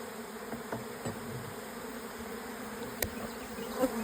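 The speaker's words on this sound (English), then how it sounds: "Do you see all these bees?" Bees swarming around a hive fill the air with a steady, close buzzing drone, with a few faint knocks and rustles underneath and no talking.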